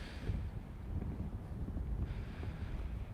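Wind buffets the microphone in a steady low rumble, rough and gusty throughout with no other clear sounds.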